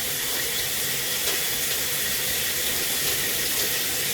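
Water running steadily from a tap while hair is rinsed, a constant close hiss at an even level throughout, with no voices.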